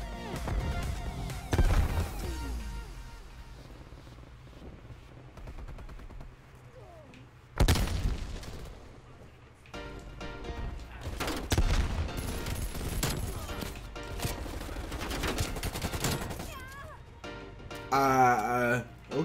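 Rapid bursts of gunfire in a shooter video game, volleys of automatic shots and single cracks coming in clusters with brief lulls, some loud and close, others softer.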